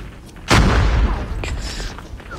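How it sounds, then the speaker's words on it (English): A thrown grenade detonating in the mobile shooter game Call of Duty Mobile, one sudden loud boom with a heavy low-end burst that rolls into a rumbling decay lasting about two seconds. "I'm just throwing a nade."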